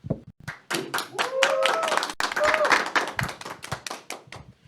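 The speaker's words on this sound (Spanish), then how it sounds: "empezamos con un fuerte aplauso" A small group applauding at the start of a Catholic talk show, rhythmic hand clapping with voices talking and cheering over it, moderately close.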